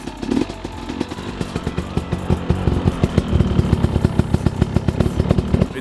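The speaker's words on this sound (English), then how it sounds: "I just love a crisp 2-stroke that works like magic. Listen to this." A two-stroke enduro motorcycle engine runs close by, still a little cold, with a crisp, rapid popping beat that builds slightly in pace and loudness.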